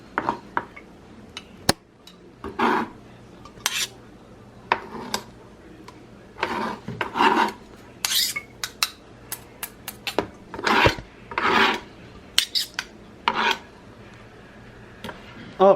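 A spoon scrapes and pats salmon fish cake mixture on a hot plate, giving irregular scraping, rasping and clinking bursts, close and fairly loud, with no talk.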